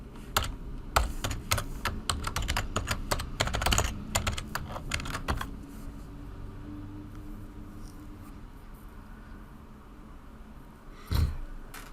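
Login details are typed on a computer keyboard in a rapid burst of close, crisp keystrokes lasting several seconds, then quiet room tone with one last louder tap near the end.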